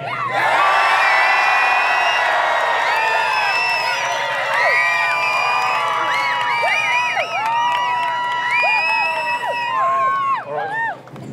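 Large crowd at a supercar show sound-off cheering, whooping and shouting loudly together in a sustained roar that tapers off at the end.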